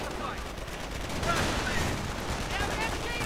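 MG42 machine-gun fire in a World War II strategy game: dense, continuous bursts of rapid shots mixed with other battle noise, steady and moderately loud throughout.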